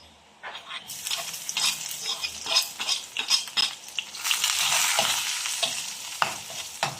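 Onions sizzle in a frying pan for fish lumpia, a bright crackling hiss that swells as they hit the oil, with spatula scrapes and stirring clatter throughout; no one speaks.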